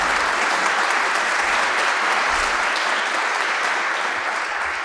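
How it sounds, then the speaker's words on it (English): A sustained round of audience applause welcomes a debater at a formal debate, dense and even clapping from a full room that holds steady for several seconds and only slightly tapers at the end. "If you could please give a round of applause for Mr."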